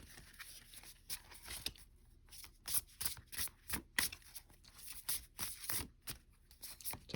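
Oracle cards being shuffled by hand, a close, quiet sequence of rapid riffling and sliding flicks in repeated bursts, no one speaking.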